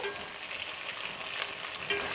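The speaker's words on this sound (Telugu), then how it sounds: "వంకాయలు ఇట్లా వేగాలి, ఇట్లా కలర్ వచ్చింది చూడండి" Brinjals frying in a pan for stuffed eggplant curry give a steady, dense sizzle with soft crackles and a few stirring scrapes, moderately close, with no voices.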